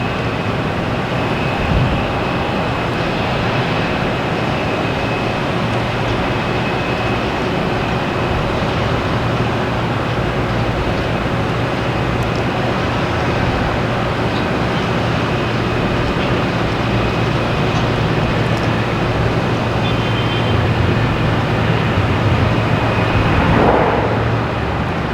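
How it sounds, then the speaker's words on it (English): A JetBlue Airbus A321 from San Francisco arrives at Boston Logan Airport, a steady loud jet roar that holds for the whole stretch, with no talk. "Next arrives a JetBlue from San Francisco"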